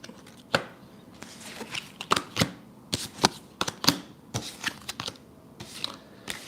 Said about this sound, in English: We're going to get some oracle cards.